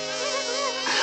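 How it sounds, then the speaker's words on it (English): Cartoon bees buzzing in a steady, dense swarm drone, close and continuous, rising slightly in brightness near the end, from an animated Winnie the Pooh honey tree scene. "You never can tell with bees."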